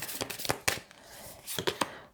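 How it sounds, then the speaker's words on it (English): Tarot cards being shuffled by hand at a reading, giving a few quick papery riffles and soft slaps in short bursts with pauses between, close up and fairly quiet. "I'm just going to do one more shuffle and then we'll see what we get"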